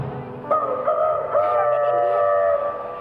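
A voice imitates a rooster's crow, a drawn-out warbling call held for about two seconds, close and fairly loud.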